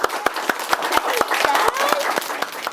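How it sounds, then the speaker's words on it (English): An audience claps for a teacher being honoured, giving sharp, evenly spaced claps in a steady rhythm under voices. "Yes, a round of applause for Miss Jones"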